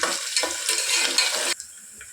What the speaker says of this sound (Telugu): వీటిని ఎక్కువ బ్రౌన్ కలర్లో వచ్చేంత వరకు ఫ్రై చేసుకోకూడదు, జస్ట్ కొంచెం లైట్గా పింకిష్ కలర్లో వస్తే సరిపోతుంది